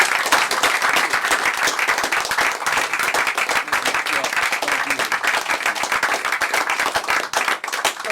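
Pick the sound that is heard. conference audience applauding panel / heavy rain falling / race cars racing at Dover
conference audience applauding panel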